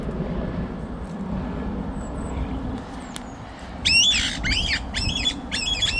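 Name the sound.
parrots squawking, afraid of a helicopter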